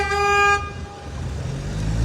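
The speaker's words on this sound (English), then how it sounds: "A lot of honking." A car horn gives one loud, sustained honk in Mexico City street traffic, then stops, leaving a low rumble of engines and traffic noise.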